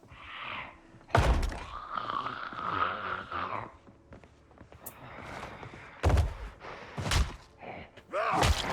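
Zombies being thumped in the video game Project Zomboid: a series of heavy, meaty thuds and impacts, some in quick succession, mixed with groaning and scuffling game sounds, fairly loud with no talk.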